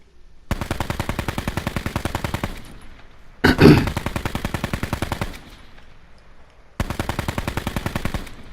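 Rapid automatic SWAT rifle fire in the Call of Duty Blackout video game, three long close bursts separated by pauses, with a single loud, heavier blast between the first and second bursts.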